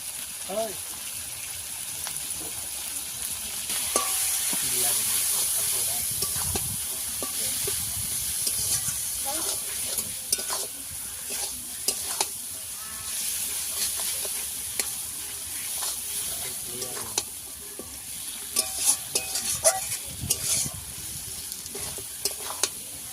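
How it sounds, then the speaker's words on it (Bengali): Country chicken curry stirred and fried in a pan, a steady sizzle running throughout with scraping strokes of the spoon and occasional louder clatters, a voice talking faintly at times. "সবকিছু আবারও ভালো করে কষিয়ে নেব"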